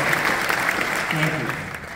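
An audience at a city government State of the City event applauds, a broad, sustained patter of many hands clapping with a faint voice briefly showing through.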